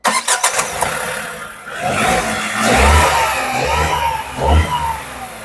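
Tata Altroz 1.2-litre three-cylinder petrol engine cranking and catching, then settling into a close idle that swells in a couple of brief revs.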